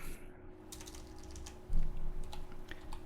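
Fingers tap out a short burst on a computer keyboard, a run of quick, close, crisp clicks after a brief quiet start, with a steady faint electronic hum beneath.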